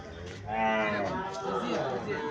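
A young Sahiwal bull calf's short, drawn-out moo close by, rising then fading, with people's voices murmuring in the background at a cattle market in Chouyara, Cumilla.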